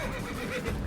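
A horse in Assassin's Creed lets out one brief, whinnying neigh, close and alone.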